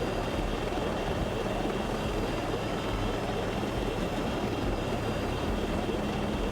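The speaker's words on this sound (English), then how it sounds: "In a smoky helicopter." A helicopter in the video game Ghost Recon: Breakpoint, a steady dense rotor and engine roar held at constant loudness throughout, with no talk over it.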